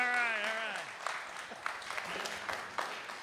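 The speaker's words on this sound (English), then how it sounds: "now everybody's got to applaud because this is the Wisconsin section manager." Audience applause at an amateur radio forum, moderate clapping with scattered sharp claps, beginning under a voice that trails off and then continuing alone.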